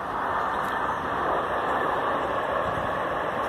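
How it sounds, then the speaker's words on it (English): A train rumbles past in the background of Stoneyfields Park, a steady broad roar holding throughout without talk. "Probably just hear the train in the background there."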